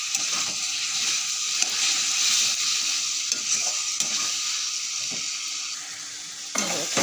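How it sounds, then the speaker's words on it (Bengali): Bahar fish curry sautéed with ground garam masala in a pan, a steady bright sizzle running throughout with intermittent scraping stirs of a spatula, close and continuous without any speech. "এটা ভালো করে নেড়ে কষিয়ে নেব"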